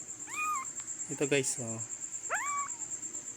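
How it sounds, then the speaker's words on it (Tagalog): Domestic cats, two nursing mothers with their kittens, give two clear rising meows near the mic, one early and one later, while someone talks briefly between them over a steady high electrical whine. "Ito ngayon guys mga alaga kong pusa."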